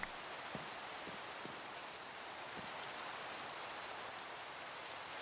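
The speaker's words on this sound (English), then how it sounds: "Sleep through the rain, unfortunately, that is still coming down upon us." Steady rain falling in the Minecraft video game, a soft continuous hiss of drops at low volume with a few faint ticks, no voices.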